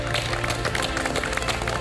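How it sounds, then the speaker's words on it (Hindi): Applause for contestants on the MasterChef India 2023 semi-final: a steady, dense wash of studio audience clapping and crowd noise, loud and continuous throughout. "पहले तो बिग राउंड ऑफ अप्लॉज आपके लिए"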